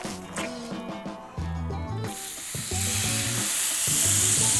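Large steak searing in a hot pan, a sizzle that swells and brightens over a few seconds over a tonal background, with no talking.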